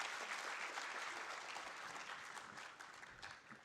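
An audience at the inauguration of an international documentary film festival at a university applauds continuously, a dense wash of clapping that holds steady throughout and tapers slightly at the end.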